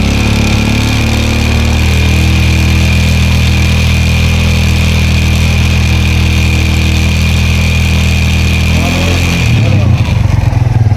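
A Barako 2 motorcycle engine idles loud and close with a steady, even drone, then the tone dips and wavers near the end.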